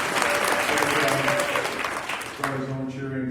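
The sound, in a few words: audience applauding and cheering at convention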